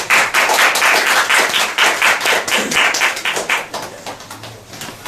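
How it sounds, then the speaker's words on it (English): An audience applauds at a talk event as two speakers are welcomed to the stage, a dense, steady burst of clapping that holds loud for several seconds before gradually thinning out. "please welcome Tori and Jamie with a big round and applause."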